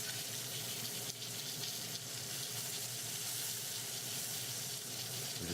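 Pork fillet browns in plenty of oil in a frying pan that is not non-stick, giving a constant, fairly quiet hiss and sizzle with no talking.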